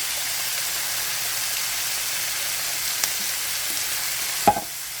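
Taco filling with Rotel and pinto beans simmering and sizzling in a pan, a steady close hiss of frying with a couple of brief clinks from a utensil.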